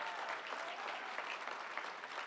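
Steady audience applause for a college honors dean standing to be recognized at a ceremony, a dense, even wash of many hands clapping that holds at a constant level for the whole stretch.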